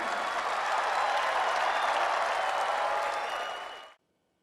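An indoor audience at a business event claps together in a dense, sustained burst of applause that holds steady, then cuts off abruptly.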